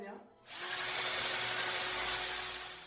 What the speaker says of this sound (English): I assume this is drilling plaster, right?